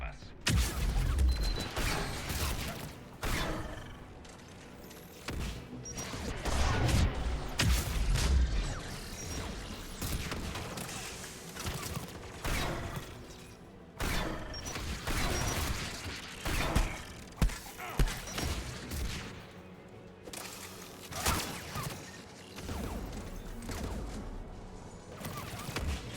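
Anti-aircraft guns in Mass Effect 3 fire in dense, repeated bursts of heavy thuds and crashes amid mechanical clatter, loud and continuous throughout, with voices talking over the battle.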